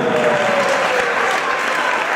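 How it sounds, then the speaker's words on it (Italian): Audience applause welcoming an award winner at a youth sports memorial tournament final ceremony, a loud, continuous wash of clapping from a sizable crowd, steady throughout with no voices standing out. "li accogliamo anche con un bel applauso"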